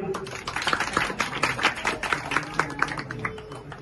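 A crowd at a public Ganesh festival claps for a child's devotional abhang performance, dense overlapping handclaps, moderately loud, with some voices mixed in.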